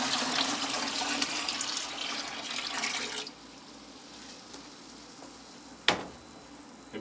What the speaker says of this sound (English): I'm going to take another container of water that's a little bit cooler